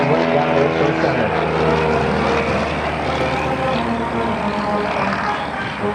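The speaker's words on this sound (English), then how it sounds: "Right now you can see he actually rolls the airplane." A Super Decathlon aerobatic airplane flying a slow roll during a practice airshow in Waukesha, Wisconsin, gives a steady, loud propeller-engine drone that holds evenly throughout with no talk over it.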